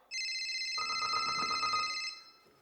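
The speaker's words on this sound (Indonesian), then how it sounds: "Telepon saya tapi saya nggak mau ngangkat." A telephone rings with a bright electronic tone that starts abruptly, holds steady for about two seconds and then cuts off, moderately loud in a quiet room.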